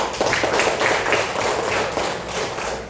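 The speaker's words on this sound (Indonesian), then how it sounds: "Tepuk tangan dulu semuanya." A classroom of students clapping their hands together, a busy rhythmic patter of many claps in quick repeated bursts, fairly close and steady throughout.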